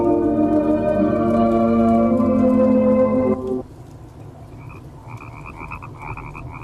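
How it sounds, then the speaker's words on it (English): Dense croaking from a large chorus of marsh frogs, played as a radio drama sound effect, fills the first three seconds loud and layered, then drops to a faint background with a few thin high calls. "There must be millions of them in those marshes. The frogs."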